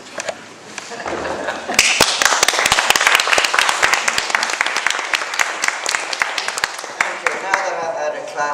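A live audience at a talk bursts into loud, sustained applause and clapping that swells after the first second and carries on densely to the end, with scattered voices underneath.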